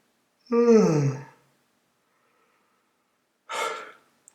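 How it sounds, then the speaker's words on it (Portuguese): A voice simulates a yawn, one long drawn-out breathy vocal sound with a falling pitch, followed by a short exhaled breath a few seconds later, close and clear against silence. "eu simulei um bocejo"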